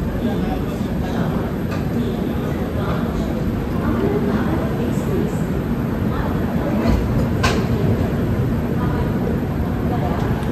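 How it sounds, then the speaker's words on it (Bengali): The Howrah–New Jalpaiguri Satabdi Express pulls into Malda Town station, a loud, steady rumble of wheels and carriages running continuously with occasional clanks and bumps. "মালদা টাউনে এই ট্রেনে ঢোকার সময় 7:15, কিন্তু আমরা 15 মিনিট অ্যাডভান্স চলে এসেছি।"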